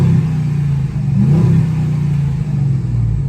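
A second-generation Dodge Durango's Hemi V8 revs close by, a short burst of throaty, low engine rumble that swells and eases over a few seconds with no voices.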